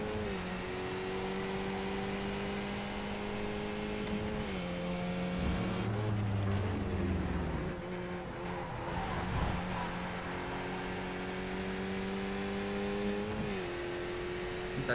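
Skip Barber race car engine droning steadily at close range, its pitch stepping and shifting as it downshifts a gear, with a brief rev blip in the middle and continuous loud engine tone throughout.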